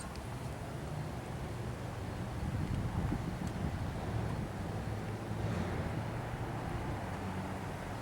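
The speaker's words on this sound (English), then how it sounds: "It's windy out now." Steady wind roars and buffets outdoors for the whole stretch, a broad low rumble with gusts swelling in the middle, no voices.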